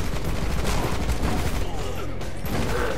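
A shotgun blasts at close range in the Rocketbirds: Hardboiled Chicken video game, a loud dense burst of firing and impacts with a player talking faintly underneath.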